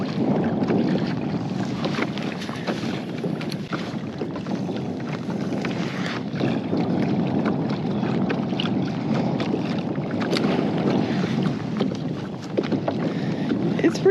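Fishing boat trolling slowly on open water, a continuous low rumble with wind buffeting the microphone and water washing against the hull, no pauses.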